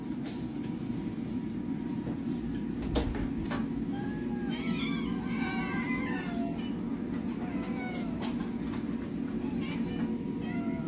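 A three-legged cat meows in a few short calls midway through, over a steady low rumble of background noise, with some voice-like sound mixed in.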